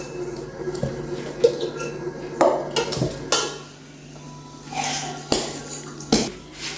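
Pounded banana and pounded cassava being mixed in a pot in a home kitchen in Abidjan, heard as irregular clinks and scrapes of a utensil against the pot with soft thumps, close and moderately loud, with a steady low hum underneath.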